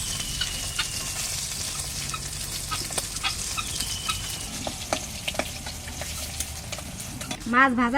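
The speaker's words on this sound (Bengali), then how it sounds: "মাছ ভাজা" Fish frying in a pan makes a steady sizzle broken by frequent sharp pops and crackles. A brief bird-like call rises near the end.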